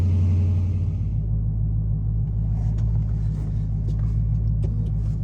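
Dodge Challenger SRT8 engine giving a steady, loud low rumble from inside the car while driving, with a brief deeper throb at the start and light road and cabin noises layered on top.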